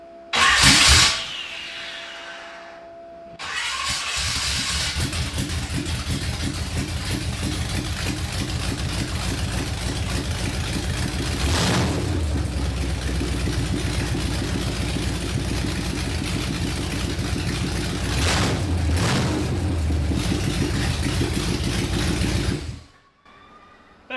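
Chevy V8 swapped into a rear-wheel-drive Honda CRX, roughly 500 hp, starting with a short burst, then running in a loud, rough, sustained drone with two sharp revs partway through before cutting off abruptly.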